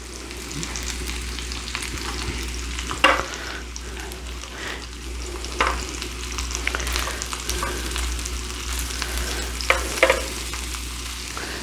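Bacon, eggs and bread fry together in a pan for a full English breakfast, a steady close sizzle with occasional sharper pops and crackles throughout, no voices.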